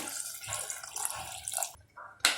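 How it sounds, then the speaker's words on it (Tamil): Half a cup of water poured into a cooking pot, giving a continuous close liquid splashing and trickling for nearly two seconds, then a brief pause and a final louder splash. "இந்த கப்பில் ஒரு 1/2 கப் தண்ணி ஆட் பண்ணுறேன்."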